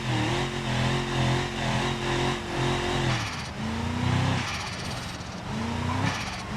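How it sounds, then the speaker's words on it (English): A Ford Super Duty pickup truck in BeamNG.drive on a proving ground, its engine roaring steadily with rising and falling revs as it drives fast, loud and close throughout. "it's a big truck, but it's fast."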